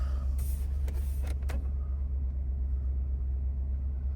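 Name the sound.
2024 Ford F-250 XLT pickup truck engine running after start-up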